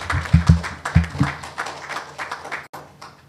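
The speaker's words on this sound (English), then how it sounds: "Please give a round of applause." Audience applause at a Miss Global International launch event in Montego Bay, a short burst of scattered clapping with a few loud close claps, fading quickly under a murmur of voices.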